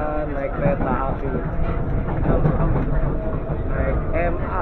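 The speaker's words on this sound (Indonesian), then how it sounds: "kita hari ini jalan-jalan naik kereta api" Steady rumbling interior noise of an MRT train during a ride, continuous and fairly loud throughout, with voices blended into the din.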